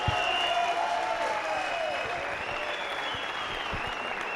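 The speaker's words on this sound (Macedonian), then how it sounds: "еден силен аплауз за нашиот Димитар Ташков" Crowd applause and cheering at a regional boxing league event, dense steady clapping throughout with a whistling tone over it.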